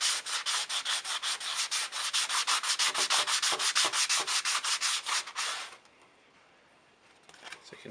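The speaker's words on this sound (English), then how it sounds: "what I usually do is use these foam sanding blocks. I like to just scuff it up." A foam sanding block, about 120 grit, scuffs a styrene sheet cut as an HO scale model road in quick, steady back-and-forth strokes, close and loud, stopping near the end.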